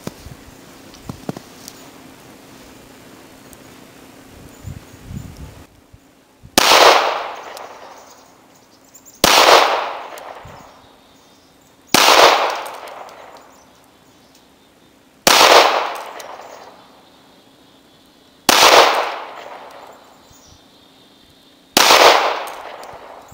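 Six loud, sharp pistol shots from a Ruger LC380 .380 handgun at an outdoor range, fired one at a time about three seconds apart, each cracking hard and then ringing out briefly after a quieter stretch of background sound.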